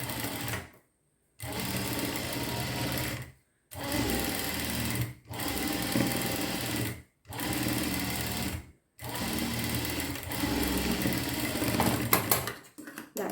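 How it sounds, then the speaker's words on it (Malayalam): A sewing machine stitches a sleeveless collar kurti in about six steady whirring runs, each separated by a short silent pause, close and clear with no speech. "ഞാൻ തയ്ക്കാം"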